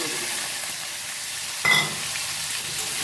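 Onion and chili frying in oil in a home kitchen, a steady low sizzle with one brief louder crackle burst partway through, no talking.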